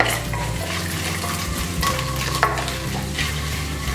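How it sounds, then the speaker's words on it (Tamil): Mustard seeds, chana dal, urad dal and asafoetida fry in hot oil for sago upma, a steady close sizzle with crackling pops and a spoon stirring and scraping the pan. "எண்ணெய் சூடானதுக்கு அப்புறமா கடுகு, கடலைப்பருப்பு, உளுத்தம் பருப்பு, பெருங்காயம்"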